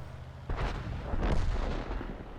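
Tank cannon fire in a tank video game, including a shot from a Patton tank, heard as heavy booming blasts with rumbling decay, loud and close over continuous engine-like background noise.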